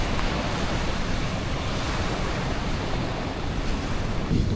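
Surf rolling onto a beach at Lembongan, Indonesia, on a rainy day: a dense, steady wash of breaking waves, fairly loud and continuous, with some wind buffeting the microphone and no voices.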